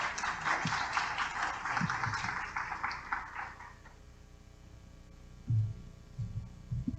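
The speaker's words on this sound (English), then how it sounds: "Let's give her a warm round of applause." Applause welcoming Dr. Christina Thomas at a lunchtime history talk: a few seconds of fairly faint audience clapping that dies away, leaving room hum and a few scattered taps and soft thumps.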